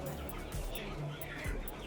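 Rainbow chickens on a small farm cluck softly and faintly in a few brief, scattered calls over a steady low background hiss.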